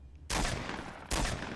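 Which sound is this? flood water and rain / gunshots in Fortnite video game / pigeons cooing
gunshots in Fortnite video game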